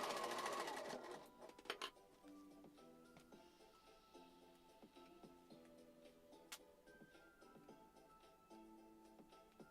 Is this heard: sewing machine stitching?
yes